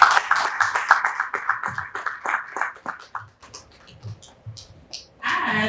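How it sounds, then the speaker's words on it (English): Audience at a finance summit applauding, a burst of close, irregular hand claps that thins out into scattered claps before a murmur of noise at the end. "can we give a resounding applause for Samson Esemwede."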